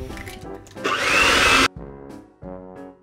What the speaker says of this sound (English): add in 2 eggs, one at a time, beating those in each time